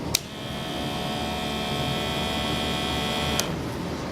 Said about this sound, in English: The sound you just heard was the motor pumping the air in.